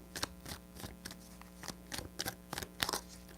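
Tarot cards shuffled by hand in short, uneven bursts of crisp riffling and slapping, close and fairly quiet over a low steady hum, with no talking.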